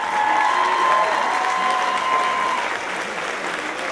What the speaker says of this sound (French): applaudissez extrêmement chaleureusement le comité organisateur Lily Poirier, Eugénie Dubé-Guilbeault et Lau